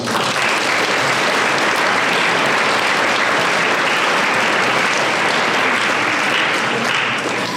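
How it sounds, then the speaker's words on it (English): Graduating seniors at a senior awards night applaud themselves, a loud, sustained roar of many hands clapping that stays dense and even throughout, with no voices rising above it. "I would like you to give yourselves a round of applause."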